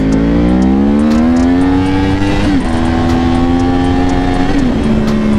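Yamaha R1 sport bike accelerating hard in second gear for a wheelie, a loud, close engine note that climbs steadily through revs, with two brief dips where the throttle eases before it pulls again, and no talk.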